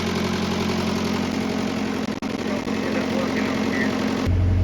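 An International Harvester 574 tractor engine with a fuel injection pump fault runs steadily at one fixed speed, a loud, even idle-like rumble with a brief dip near the middle before it changes tone at the end.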